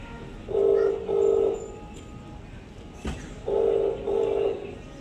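Telephone dialing during a Hindi stage play: two pairs of steady tonal beeps, each pair made of two short tones, separated by a brief gap with a soft knock between them, faint background noise.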